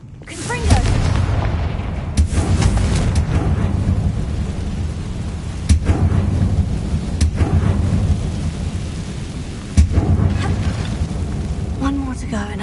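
Repeated heavy booms from the Confringo explosion spell in Hogwarts Legacy land every few seconds over a dense, rumbling bed of noise.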